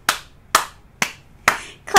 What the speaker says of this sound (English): Let's clap our hands and stomp our feet.